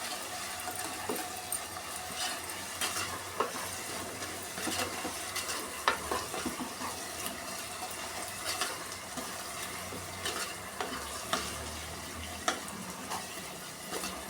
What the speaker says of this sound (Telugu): అల్లం మంచిగా వేగాలి. అల్లం ఎంత వేగితే అంత టేస్ట్ ఉంటుంది.